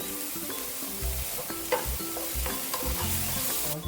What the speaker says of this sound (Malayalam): എന്നിട്ട് നന്നായിട്ട് വഴറ്റാം. ഉള്ളി നന്നായിട്ട് വഴലാണേ.